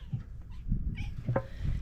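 A cat gives a soft, short meow over a low background rumble, faint and fairly close, with no one talking.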